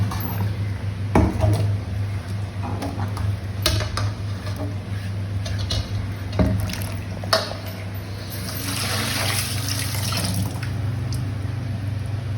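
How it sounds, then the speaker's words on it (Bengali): Chillies, garlic and onion being washed in water in a kitchen, with continuous splashing, trickling and light clinks of a bowl, growing into a louder rush of running water near the end. "এবার আমি এগুলো ধুয়ে নিই, লঙ্কা,"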